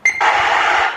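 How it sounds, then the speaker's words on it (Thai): Loud steady static hiss from an Icom 2200T radio transceiver, breaking in abruptly after a brief high beep tone and filling the rest of the second without talk. "เสียงซ่านะ"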